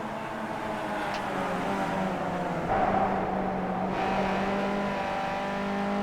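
Formula race cars at Barber circuit, a steady sustained engine drone with layered harmonic whine, moderately loud and continuous, rising slightly in the middle as cars pass near.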